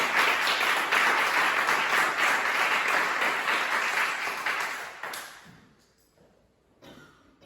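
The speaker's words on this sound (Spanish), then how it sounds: "Denle un aplauso a Jesucristo." A church congregation applauds during a Spanish-language sermon, a dense, loud burst of many hands clapping together for about five seconds before it quickly fades to near silence.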